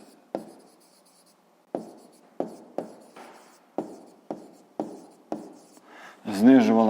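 A pen or pencil writes by hand on paper in short separate strokes, about nine scratchy marks spaced unevenly and heard up close, followed by a voice speaking at the end.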